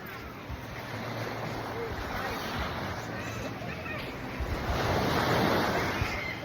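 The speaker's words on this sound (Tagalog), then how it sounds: "Yan, mga alon niya." Ocean waves surge and wash ashore nearby in a continuous rushing roar, with wind buffeting the microphone, a louder swell toward the end and faint voices in the background.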